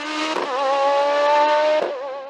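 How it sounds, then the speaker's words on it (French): A Nova Proto NP01 V8 race car howls up a hill climb course, its engine held at a loud, steady high pitch with brief gear-change dips near the start and end, passing close by. "Tout en signant le deuxième meilleur temps absolu du week-end avec sa Nova Proto NP01 V8, Billy Ritchen doit se contenter de la 4e"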